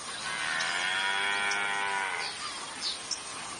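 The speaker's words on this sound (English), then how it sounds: "we soon found a large army of cattle." Cattle out in the wild along an embankment, one long, loud, drawn-out moo held for about two seconds, followed by fainter outdoor background noise.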